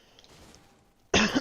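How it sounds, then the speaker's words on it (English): A single sharp throat clearing near the end, loud and close after a quiet stretch with faint background game sound. "Let me clear my throat so I don't sound too squeaky."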